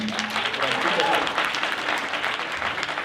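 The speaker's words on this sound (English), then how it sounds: "let's give a round of applause to them" An audience applauds a hackathon team at a live cinema show in Geneva, dense steady clapping filling the whole stretch at a fairly close, even level, with a voice faintly present beneath.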